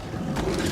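Short mechanical clicking and ratcheting of a gun being reloaded in the video game Dying Light The Beast, close and brief.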